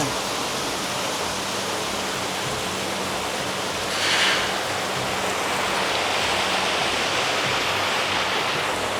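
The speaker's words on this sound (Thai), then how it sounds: "ตรงนี้ก็จะเป็น ตัวที่ปล่อยน้ำลงมานะครับ" Water pours steadily from an outlet into a koi pond, a continuous broad rushing splash close by, with one brief louder surge partway through and no talking.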